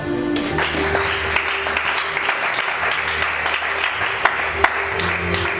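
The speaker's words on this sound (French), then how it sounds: "Acclamons chacun." A church congregation applauds steadily during a French-language sermon, a dense, even wash of clapping filling the room with a few sharper claps standing out, no voices over it.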